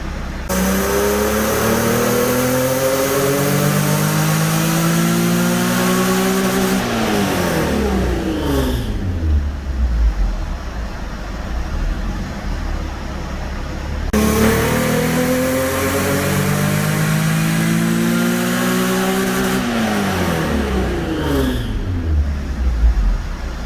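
A stock Nissan 350Z with the HR engine, running a basic tune on a dyno, revs through two long full-throttle pulls, each climbing steadily in pitch to a peak before dropping back, loud and close.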